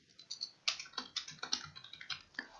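Quick, uneven keystrokes on a computer keyboard, close and quiet, a burst of a dozen or so clicks with no speech.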